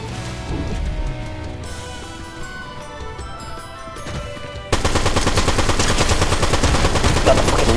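Automatic gunfire in the Fortnite video game rattles in fast, loud repeated shots, starting somewhat lighter and then breaking into a dense, heavier sustained burst for the last few seconds.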